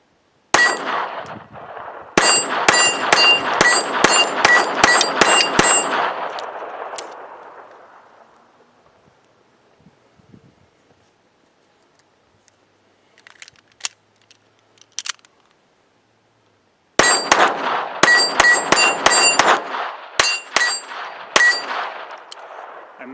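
A Ruger LCP II pistol fires Federal Champion .22LR rounds in rapid strings of sharp, close cracks, a long burst first, then a pause with a few scattered shots, then another fast volley.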